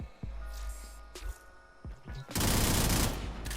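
Kuva Karak assault rifle fire in the video game Warframe, boosted with fire rate mods, comes as a few separate thumping shots followed by a dense, rapid burst of automatic gunfire toward the end.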